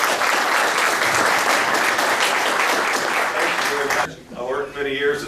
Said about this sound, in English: Again, big round of applause